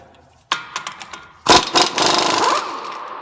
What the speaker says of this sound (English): I'm going to go ahead and remove the axle shaft nut or spindle nut.